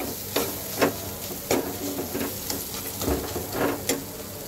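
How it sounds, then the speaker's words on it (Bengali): Goat liver with spices stir-fried in a pan, a steady sizzle broken by repeated scraping stirs at an uneven rhythm, close and moderately loud with no talk. "এইবার সবকিছু একসাথে সুন্দর করে কষাবো।"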